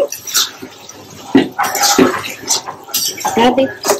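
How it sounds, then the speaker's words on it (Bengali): A metal pot lid lifts and a spoon stirs and scrapes through chicken tehari cooking in a pot, with clinks and wet shuffling close by while a person talks. "এখন একটু ঢাকনিটা তুলে নাড়া দিয়ে দিচ্ছি।"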